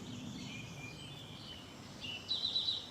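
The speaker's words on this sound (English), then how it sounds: "listening to the birds here, maybe you have birds where you are too." Faint birds chirp and sing in the distance outdoors, with a brief run of higher chirps toward the end over a steady background hush.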